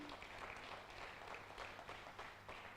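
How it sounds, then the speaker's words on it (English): An audience applauding at a school science day event, a faint, distant, even wash of clapping that lasts throughout. "could we just have a huge round of applause for Stephanie"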